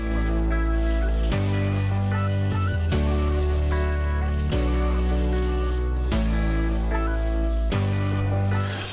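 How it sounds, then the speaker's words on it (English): A carbon fiber bike frame tube is sanded by hand before clear coating, giving a steady, continuous rubbing scrape that runs without pause at close range. "But at first I have to sand this tube"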